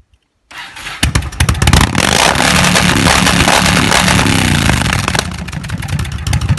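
A Yamaha Wildstar XV1600 engine starts abruptly, then runs loud and close with a rough, throbbing roar and revs. No speech is heard.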